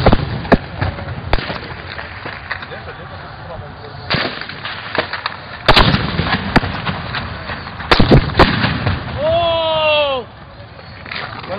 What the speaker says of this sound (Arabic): عم يضرب بالدبابة رشاش كله عم يضرب